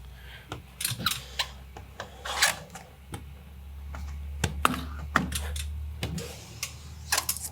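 Scissors or a blade cut window tint film by hand, giving close, dry snips, rubs and rasping scrapes in an irregular rhythm against a quiet background.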